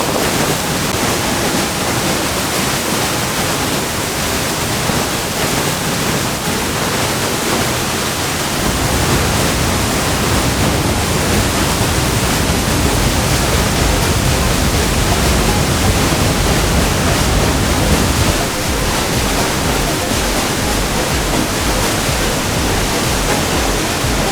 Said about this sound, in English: then you come to this amazing waterfall, which is the power of that waterfall was incredible.